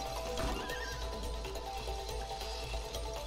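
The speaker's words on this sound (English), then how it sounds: "Horse." A horse neighs in the co-op video game It Takes Two, a clear whinny near the start followed by soft clip-clop hoofbeats over steady game ambience.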